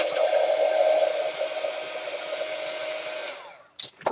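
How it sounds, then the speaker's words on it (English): A heat gun blasts steadily close by as it dries chalky stencil ink on painted cork, a loud continuous whirring hiss for several seconds before it switches off and a couple of brief handling knocks follow. "give it a blast with your heat gun just to dry it off."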